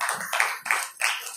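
A few hands clap during a Friday village prayer gathering, four distinct bursts in a slow, even rhythm, close and fairly loud with no talk over them.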